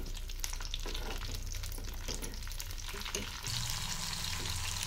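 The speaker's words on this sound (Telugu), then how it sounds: "చూడండి, వేగుతున్నాయి కదా పచ్చిమిర్చి." Torn green chilies fry in hot oil in a pan, a dense continuous crackling sizzle, close and steady throughout, with a slight shift in texture near the end and no talk.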